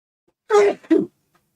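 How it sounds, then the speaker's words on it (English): A person's single two-part sneeze, a sharp voiced burst then a shorter second burst, close and fairly loud, with quiet before and after. "Excuse me, I'm going to sneeze."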